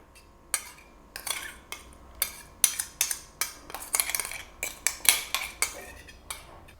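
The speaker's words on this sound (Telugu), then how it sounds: "మనం సిద్ధం చేసి పెట్టుకున్న ఈ కరివేపాకు పేస్ట్ని ఒక బౌల్లోకి తీసుకోవాలండి." A spoon scrapes and taps against a bowl while moving freshly ground curry leaf paste into it, giving a quick series of close, sharp metallic clinks and scrapes in irregular rhythm.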